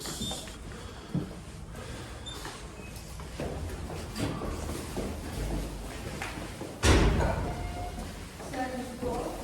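An apartment building entrance door in a quiet courtyard in Kyiv, Ukraine, thumps and latches with one loud heavy clunk partway through, among scuffs and handling noise while people talk nearby.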